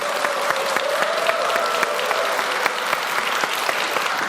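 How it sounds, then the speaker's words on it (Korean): A church congregation applauds steadily at a visiting program, many hands clapping in a continuous dense roar, with a faint voice briefly audible underneath. "박수 부탁드립니다."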